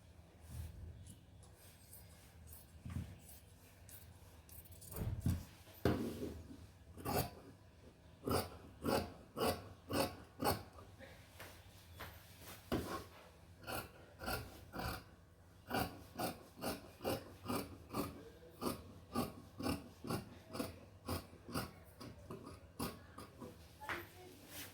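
Scissors cut through blouse fabric to shape the front piece, giving a quiet series of rhythmic snips that come faster and more regularly in the second half.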